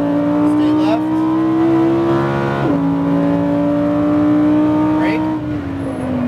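A Lamborghini Huracan LP at Speed Vegas race track holds a loud, sustained engine drone from inside the car, its pitch stepping with a gear change and rising again as a voice speaks over it.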